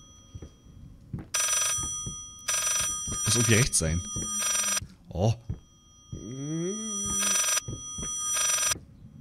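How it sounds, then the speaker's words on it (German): Old telephone bell ringing in the horror game Layers of Fear, several loud sustained ring bursts repeating through the clip, alternating with someone talking and reacting between rings. "Wo ist denn hier ein Telefon? Wo ist denn das scheiß Telefon,"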